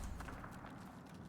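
A horse runs in the video game Dragon Age: Inquisition, its hooves making a steady low rumble of rapid clip-clop footfalls across the whole short stretch, with no voices.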